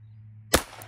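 A single sharp gunshot rings out against an AR500 steel teardrop target, one loud crack with a brief ringing tail after a low steady hum.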